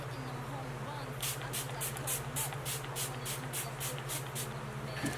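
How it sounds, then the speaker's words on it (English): About a dozen quick pumps of face primer mist fire in a rapid, even burst sequence, close to the microphone, over a steady low electrical hum. "I can just easily spray this onto my face."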